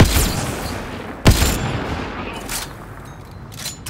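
Gunfire in the Mass Effect: Andromeda video game: one sharp, loud shot stands out above steady rumbling battle ambience, with fainter bursts following and no voices.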